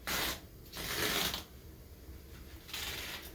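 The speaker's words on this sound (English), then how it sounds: "I'll go ahead and lock down the edges of the tape." Tape edges on a waterproof fiberglass short leg cast with a Gore-Tex padded lining are pressed and rubbed down in close bursts of scratchy friction with brief pauses between strokes.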